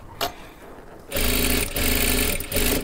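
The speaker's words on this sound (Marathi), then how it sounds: "बघू शकता अशा पद्धतीने आपल्याला शिलाई करत घ्यायचं आहे." An electric sewing machine stitches a piping strip for a katori blouse: a brief tap, a pause, then a loud, rapid mechanical whir running close up for over a second, briefly easing before resuming.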